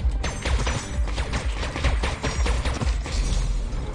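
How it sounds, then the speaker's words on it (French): Bombs bursting and spraying bullets in the game Neon Abyss, a dense run of rapid thuds and popping gunfire with steady booming rumble, continuous and loud throughout. "ça lance des balles quand elles explosent"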